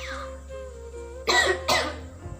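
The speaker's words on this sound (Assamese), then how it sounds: "কাহ হৈ আছে" Two sharp coughs close together, loud and near, after a brief quiet murmur of a voice, with a low steady hum underneath.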